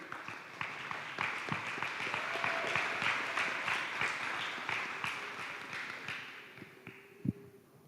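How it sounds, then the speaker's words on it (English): Audience applause for a girls' indoor track team at a school board meeting, sustained and fairly close, with distinct individual claps standing out over a steady wash that tapers off toward the end. "A round of applause for our ladies"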